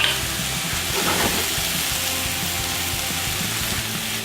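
Artichoke hearts and garlic sauté in a pan for spinach artichoke mac and cheese, giving a steady, moderate sizzle with a brief stir partway through and no talking.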